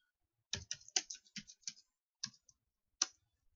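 Computer keyboard typing with a burst of quick key clicks followed by a few separated presses, ending in a firm Enter keystroke, close and clear with no talking.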